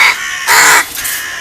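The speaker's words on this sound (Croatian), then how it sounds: "Ova se dere malena, koja nije njihova vrsta zapravo, a ovi se okupljaju se sive vrane jer su solidarne sa malim garčcem" Hooded crows call loudly and up close around a screeching young jackdaw, several harsh caws overlapping in quick bursts with no voices.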